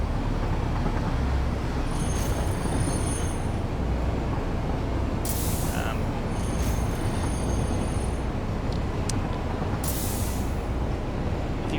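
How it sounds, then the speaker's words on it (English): Trains rumble steadily through an automated factory in the game Satisfactory, a continuous dense rolling drone with a few brief high squeals and hisses, no talk. "with all these trains coming and going"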